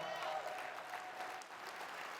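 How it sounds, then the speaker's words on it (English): An audience claps at a motivational talk, a soft, steady patter of many hands heard at some distance. It sounds fairly faint and continues evenly without a clear break. "give me a hand clap"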